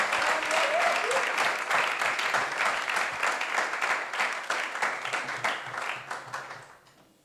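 A church congregation claps for the Lord with a sustained round of applause, loud at first and then thinning into scattered claps before fading out.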